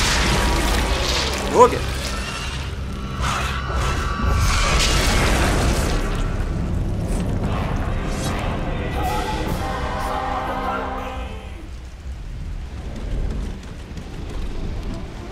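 Enemies bursting apart in God of War: heavy booming explosions and crashing debris roll through a dense, loud battle mix, fading gradually toward the end, with someone speaking briefly.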